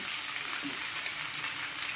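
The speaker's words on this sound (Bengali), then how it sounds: "সব সবজি একসাথে ভাজছি" Mixed vegetables including brinjal, ridge gourd, red potato, carrot, radish and pointed gourd sizzle together in a pan, a steady close crackling hiss of frying with no talk.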